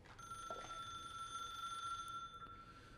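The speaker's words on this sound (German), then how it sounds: "Und das Telefon klingelt schon." A telephone rings inside an empty hotel in the video game The Suicide of Rachel Foster. It is a faint, steady electronic tone held over quiet room ambience, with no voices.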